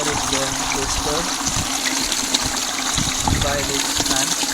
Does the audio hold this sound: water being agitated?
yes